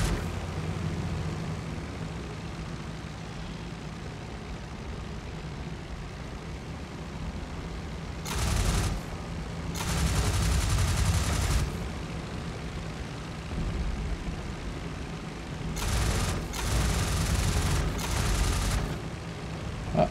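Explosions and gunfire in the World War I flight game IL-2 Flying Circus: a steady engine drone runs throughout, broken by several loud bursts of firing and blasts, with no speech.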